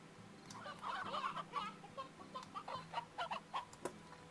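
Chickens cluck in the Slime Rancher video game, a string of soft, quick clucks in uneven bursts at moderate distance over quiet background.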